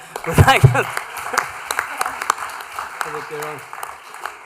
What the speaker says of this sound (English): I was going to give a big round of applause to the mascot